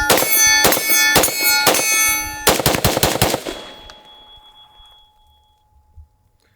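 SIG 5.56 rifle firing outdoors: three spaced shots, then a quick string of about six, each sharp crack leaving a loud metallic ring from the muzzle device that hums on and fades slowly after the last round.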